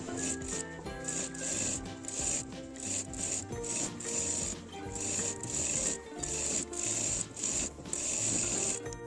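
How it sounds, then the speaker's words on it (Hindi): Steady rubbing and rasping of hand stitching on a fabric curtain panel of a lined blouse, close and continuous, with a constant high hiss and faint background music throughout. "इसी तरह से मैं दूसरे पर्दे पर भी सिलाई लगा रही हूँ"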